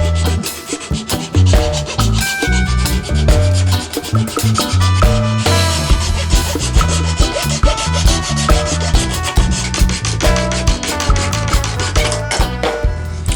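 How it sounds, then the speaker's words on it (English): A hand saw cuts fret slots into a guitar fretboard for a scratch-built Les Paul Junior style guitar: quick, close, rhythmic rasping strokes repeating steadily for the whole stretch with no talking. "I can now use to cut the final fret slots themselves"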